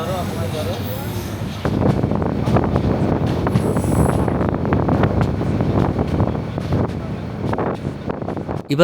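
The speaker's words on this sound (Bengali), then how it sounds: "আমাদের ট্রেন চলেছে নবনির্মিত রেলপথ ধরে ধরে" A train rumbles steadily along newly built railway tracks from Dhaka to Cox's Bazar, with rhythmic clatter and wind buffeting, loud and close throughout after a quieter opening.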